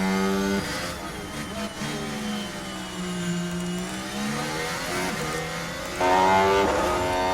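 Formula 1 race cars battling wheel to wheel on the opening lap in F1 Manager 23, heard from onboard, engine whine rising and falling through the gears, with a louder surge of revving near the end.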